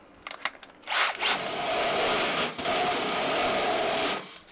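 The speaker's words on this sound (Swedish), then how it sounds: "Låter som fan när man borrar med." A step drill bores a hole during work on underfloor heating and an EV charger install, giving a loud, sustained high-pitched grinding whine after a few short bursts, close to the microphone.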